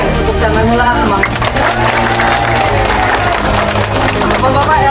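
Hundreds of villagers at a community gathering clapping together, a dense crowd applause that keeps going under loud amplified talk and scattered cheers.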